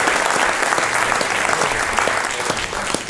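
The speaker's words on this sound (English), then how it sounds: "I think we ought to give another round of applause for that" Loud, full applause from a dinner debate audience, a thick continuous roar of many hands clapping that stays strong for the whole stretch, with no talk over it.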